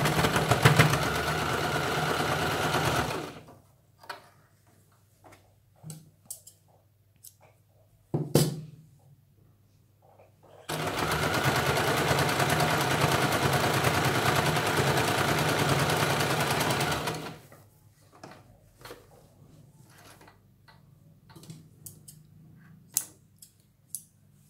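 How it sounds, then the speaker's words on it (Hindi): A sewing machine stitching the side edge of a blouse runs in two sustained bursts of close mechanical whirring, separated by quiet handling clicks and small taps. "अभी यहाँ पे भी हमें दूसरे साइड में किनारे पे इसके सिलाई लगानी है।"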